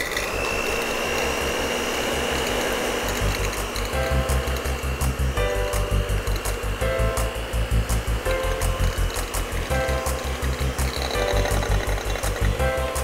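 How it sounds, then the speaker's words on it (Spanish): An electric hand mixer beats egg whites toward stiff peaks in a kitchen, a steady loud motor whir with rhythmic pulsing as the beaters churn, continuing without a break throughout. "Voy a enchufar esto por aquí. Y voy a batir primero las claras."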